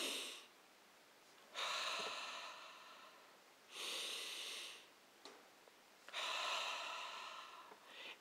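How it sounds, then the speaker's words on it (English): Slow, deep breaths during prayerful meditation, each long airy inhale and exhale swelling and fading in a steady rhythm, close and quiet with pauses between. "To take some deep breaths"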